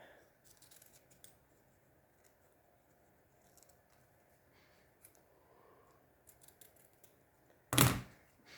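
Scissors make one sharp, close snip cutting ribbon for a perfume bottle decoration, after a stretch of quiet faint handling noise.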